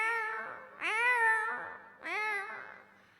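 A voice imitates a cat, giving three drawn-out, whiny meows in a row, each rising and falling, with short pauses between.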